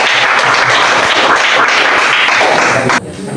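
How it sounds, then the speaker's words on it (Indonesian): A classroom audience claps for a presenting student group, loud dense applause from many hands that continues evenly and then drops off abruptly near the end. "Kita berikan tepuk tangan untuk kelompok 3."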